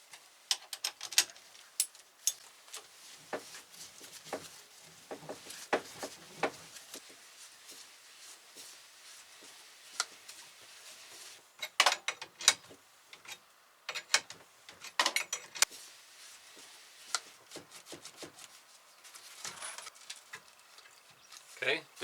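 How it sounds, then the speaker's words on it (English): A spring compressor tightens onto a car strut's coil spring, producing a long series of irregular ratcheting clicks and metallic ticks from a hand tool, fairly quiet and close, with no talking during the work. "So let's compress the spring."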